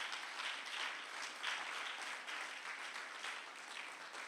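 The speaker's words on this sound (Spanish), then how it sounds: "Démosle un fuerte aplauso a Dios" A church congregation in Aguaviva, Tampico claps together in a sustained, even burst of applause, bright and crisp, filling the room at moderate volume with no talking over it.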